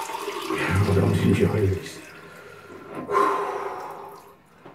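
Cold water splashing and running at a sink as a man rinses his face after shaving, with wet splashes, dripping and sharp snorting breaths, and he briefly speaks.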